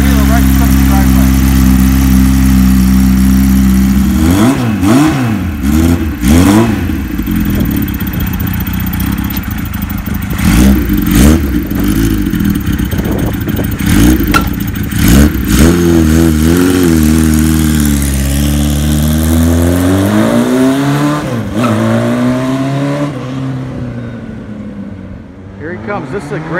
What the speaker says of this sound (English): Bike is totally cold. Hasn't been started in a couple days. The motor sounds perfect.